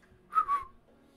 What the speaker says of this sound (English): I can't whistle when I'm smiling.